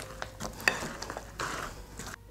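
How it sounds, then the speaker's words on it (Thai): Cut potatoes poured into thick, sticky batter and tossed together, giving short, close, wet squelching and sloshing stirs in quick bursts, with no talking. "มันฝรั่งที่เราหั่นไว้ครับ เอามาเทใส่แล้วคลุกเคล้าได้เลยนะครับ"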